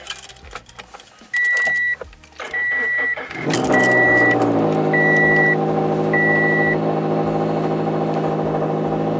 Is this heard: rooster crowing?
no